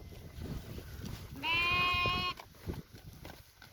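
A sheep let out to graze gives a single clear, wavering bleat lasting under a second, close and loud over a quiet outdoor background.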